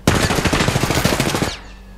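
A rapid burst of automatic gunfire in the video game Apex Legends, loud and close, about twenty shots in a fast even rhythm that stops abruptly after a second and a half, then fades into a quiet ring.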